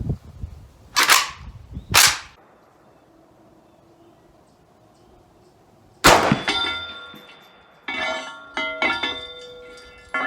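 A PSAK-47 rifle fires at a steel target at 200 yards: two sharp shots, then another report followed by a ringing metallic clang from the distant steel plate.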